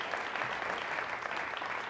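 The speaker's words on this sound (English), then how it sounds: "you can clap for that if you'd like" An audience at a TED talk claps in a steady, even patter of many hands, continuous and moderately distant for about two seconds.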